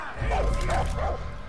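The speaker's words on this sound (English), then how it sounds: "There's a doggy there that's not happy with me." A dog in the video game Far Cry 5 gives three quick, evenly spaced barks, close and fairly loud over a low rumbling game background, with no talk.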